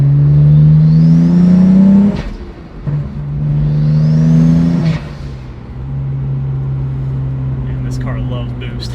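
A turbocharged N54 engine in a BMW E92 pulls hard under boost, its droning note climbing twice to a peak before easing off into a steady cruise, loud and close from inside the car.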